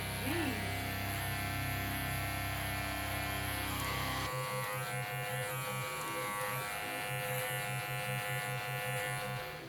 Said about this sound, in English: I'm gonna blend this into where I did my clipper over comb to make that original guideline